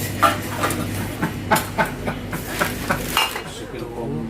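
Glass bottles clink and knock against each other as they are sorted by size in Jerusalem, a series of sharp irregular chinks at close range with faint voices in the background.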